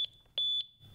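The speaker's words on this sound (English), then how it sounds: "When you return home through your entry door, the system will beep as a reminder to disarm the system." LYNX Plus security alarm system sounding its entry reminder: two short, shrill electronic beeps, close and clear in a quiet room.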